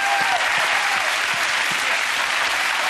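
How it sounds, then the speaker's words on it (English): Loud, dense applause from a studio audience saluting celebrity guests at a charity telethon, a thick continuous roar of clapping that stays even and full from start to finish. "keep your applause going for all of tonight's celebrity guests"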